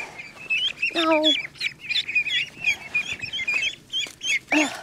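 Small ducks, a wild duck and chickens squawk, quack and cluck in rapid, overlapping bursts while squeezing through a hole in a livestock net, with nearby talking mixed in.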